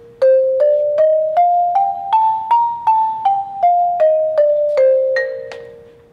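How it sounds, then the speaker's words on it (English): A marimba plays a scale of about fourteen struck bar notes, rising and then falling in an even rhythm. The mallet strikes are close and clear, each note ringing briefly, with no talking over them. "Next here we got the marimba."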